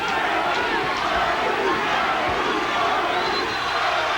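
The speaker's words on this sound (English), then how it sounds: "Crowd taking up the chant for Murray" A boxing arena crowd roars and chants for fighter Charles Murray during his 1994 bout against Jake Rodriguez, a loud, dense continuous swell of massed voices.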